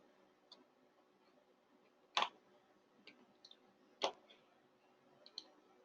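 Two sharp computer mouse clicks stand out clearly, a few seconds apart, with fainter ticks scattered around them against a quiet background.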